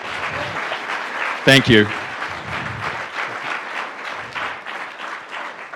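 An audience at an environmental assembly lunch session applauds the Attorney General and the Secretary, dense steady clapping throughout, briefly overlaid by a nearby voice speaking.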